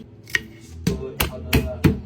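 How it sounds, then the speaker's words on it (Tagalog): A knife chops an onion into normal-sized pieces on a cutting board for a pares dish, five distinct sharp knocks spaced unevenly over two seconds, close and clear with no speech. "Tapos hinati-hati ko lang tong sibuyas na parang normal size lang."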